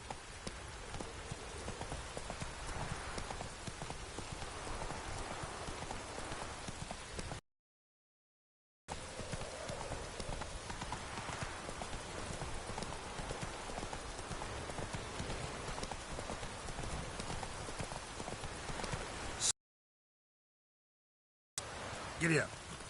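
A horse ridden in The Witcher video game clip-clops along in steady rhythmic hoofbeats over a soft rain-like ambience, with two brief silent gaps and a voice speaking over it.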